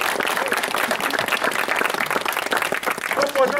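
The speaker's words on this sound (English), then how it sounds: "a round of applause." A crowd at a Māori marae welcome claps continuously for the chief, a dense, lively round of applause heard close up throughout.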